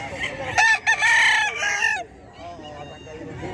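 Roundhead setter gamecock rooster crowing loudly and close, one long drawn-out crow followed by quieter clucking and farm background noise, with people talking faintly at a poultry market.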